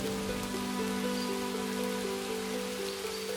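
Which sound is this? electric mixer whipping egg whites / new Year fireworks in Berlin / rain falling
rain falling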